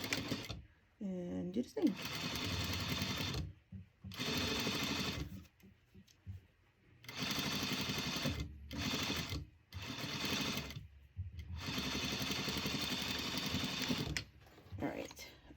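A sewing machine stitches a fabric face mask in several separate bursts with short pauses between them, close and fairly loud, and a person talks briefly between runs.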